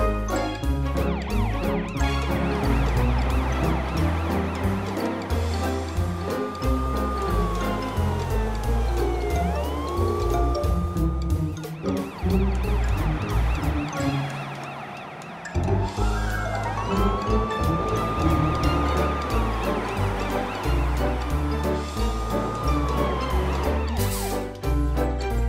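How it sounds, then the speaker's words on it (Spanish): A wailing siren rises and falls repeatedly over busy, loud cartoon-style music and effects, with a brief dip midway. "Ahora Morpho puede ver lo que un verdadero camión de bomberos puede hacer"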